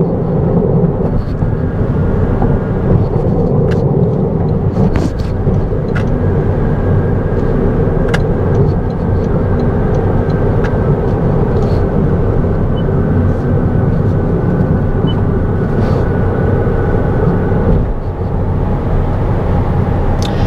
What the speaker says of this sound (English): how much road noise there is that does come through the vehicle